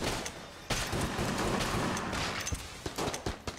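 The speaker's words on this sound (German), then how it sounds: "Achtung, da kommen die Schüsse" Rapid bursts of video-game gunfire from Enter the Gungeon, a dense volley of crackling shots with sharp staccato hits near the end, loud and continuous with no talking.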